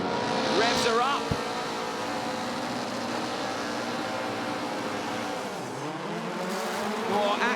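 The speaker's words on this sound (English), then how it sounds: "Here they come, the lights are coming on. Revs are up." Rallycross race cars rev and launch off the start grid at a Nitro World Games race, a loud roar of engines with tire squeal and rising revs, under excited commentary.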